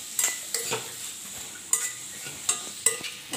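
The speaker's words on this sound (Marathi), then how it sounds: "आपल्याला चांगलं ते हलवून घ्यायचं, एकजीव करायचं." A spoon stirs pani puri water mixed with chaat masala and salt, making a series of close metallic scrapes and clinks against the vessel, about half a dozen strokes over a soft background hiss.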